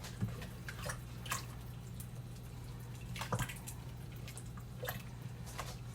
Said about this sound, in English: Okay, now I'm going to stir this.